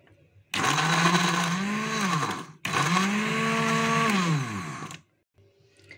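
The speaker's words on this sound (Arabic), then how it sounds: "قطعتهم واحطهم في الخلاط اضربهم كده في الخلاط عشان ينعموا" A blender roars loudly in two long bursts with a brief pause between, its motor pitch dropping as it grinds chunks of meat for homemade luncheon meat.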